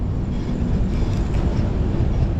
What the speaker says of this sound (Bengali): এই হচ্ছে আমাদের খড়গপুর জংশনে ঢুকছে আমাদের ট্রেন